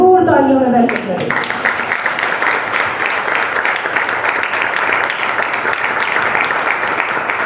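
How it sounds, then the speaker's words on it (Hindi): After a brief voice, an audience at a Christian gathering breaks into sustained, dense applause to welcome a speaker, the clapping loud and steady throughout. "हम भरपूर तालियों में वेलकम करें"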